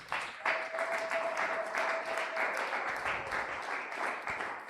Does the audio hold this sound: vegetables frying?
no